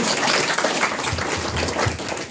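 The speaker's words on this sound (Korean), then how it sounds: "뜨거운 박수 부탁드립니다." Dense, steady applause from a crowd fills the space, loud and continuous throughout without any talking.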